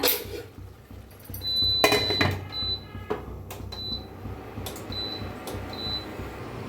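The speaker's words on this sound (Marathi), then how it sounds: "आता गाजरला एकदा मिक्स करून घेऊया, मिक्स करून जरा झाकून शिजवूया" Carrots and milk being stirred in a pot for carrot halwa, with a few sharp clinks of a metal spoon against the pot rim over a soft background hum.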